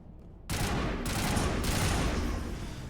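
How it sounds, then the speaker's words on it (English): Sustained assault rifle fire in Mass Effect, a dense continuous burst starting abruptly and running loud and close for over two seconds with no talk. "Back to the assault rifle."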